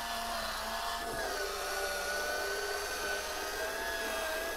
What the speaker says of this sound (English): I assume you press it the other way to run the cork back out.